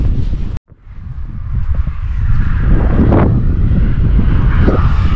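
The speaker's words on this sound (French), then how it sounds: "vous m'excuserez un peu pour le vent si on vous m'entendez pas bien" Wind blows over an open farm field where cereals are being sown, a loud, continuous buffeting roar against the microphone after a brief dropout near the start.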